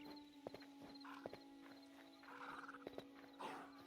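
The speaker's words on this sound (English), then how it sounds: "We got some horses in the fence." Horses in a fenced pen in the Hytale video game, with soft clip-clop hoof steps and a few sharp clicks over a steady game tone and ambient hum.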